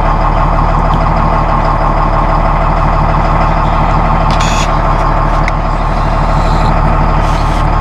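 Massey Ferguson tractor diesel engine running close by, a loud continuous low throbbing chug with a few faint higher clicks over it.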